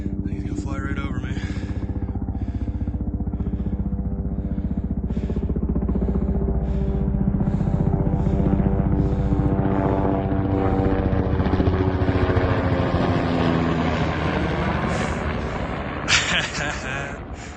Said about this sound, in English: here comes that helicopter again. I think he's gonna fly right over me